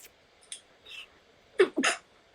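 A single sneeze bursts out close by, sharp and fairly loud, with a second quick snort right after it, set against quiet room tone and a few faint earlier rustles and sniffs.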